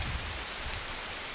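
Rain falls steadily on a hiking trail in Shenandoah National Park during a humid thunderstorm day, a dense, even hiss of drops close around with no voices.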